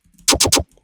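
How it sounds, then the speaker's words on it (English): Three quick, evenly spaced percussive synth hits with a wobbling LFO character from a bass house track, loud and alone against near silence. "Then we have this weird percussive LFO stuff, which sounds like this."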